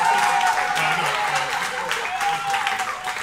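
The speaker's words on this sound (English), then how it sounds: "Let's give him a round of applause, y'all." Applause from a live concert audience, a dense, steady wash of clapping lasting throughout, with a voice faintly audible over it.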